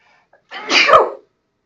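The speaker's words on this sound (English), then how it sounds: "I'm going to sneeze." A single loud sneeze, sharp and close, with a brief intake of breath just before it and silence after.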